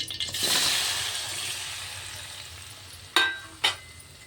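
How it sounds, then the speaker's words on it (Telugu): Chopped tomatoes drop into hot oil in a pan, bursting into a loud hiss that gradually fades to a softer sizzle, followed near the end by two sharp clatters from utensils. "కట్ చేసుకున్న టమాటాలు వేసుకొని వేయించుకోవాలి"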